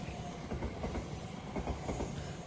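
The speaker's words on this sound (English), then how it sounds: "This is a train heading towards Hiroshima and then onto" Train on a Japanese line near tunnels, bound for Hiroshima and Iwakuni, rumbling steadily past at a distance, a continuous broadband roar with faint rhythmic clatter and no voices.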